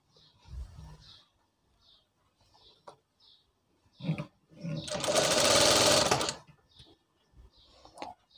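Electric sewing machine stitching a cotton face mask, one steady run of fast mechanical whirring lasting about two seconds after a few short clicks and handling sounds, close and fairly loud with no talk.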